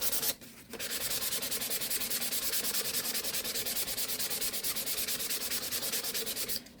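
Hand sanding of a Dollar Tree tumbler with sandpaper, rapid rhythmic back-and-forth scratching strokes, close and steady after a brief pause near the start, no voices.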